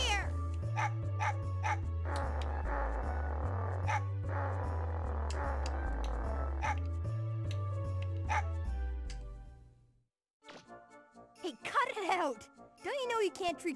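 A dog in the Megaman Legends video game yaps in short repeated barks over a looping bouncy game music track, the music fading out before a few more sharp barks and yips ring out alone.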